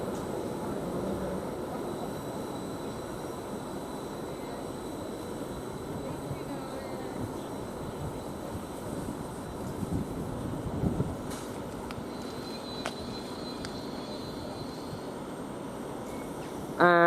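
A British Rail Class 755 multiple unit, 755 4011, running from Stansted Airport towards Norwich at Ely station, with a steady mid-distance rolling rumble and a brief high whine partway through.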